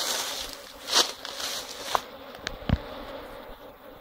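Honey bees buzz steadily and close during a honey hunt in Thodupuzha, with a few brief taps and crackles cutting through the continuous drone.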